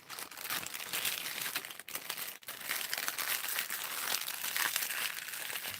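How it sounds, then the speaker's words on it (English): Plastic packaging crinkles and rustles continuously during an unboxing of alcohol pen storage, close and fairly quiet, with irregular crackling bursts throughout and no talking. "Sorry about all the crinkling."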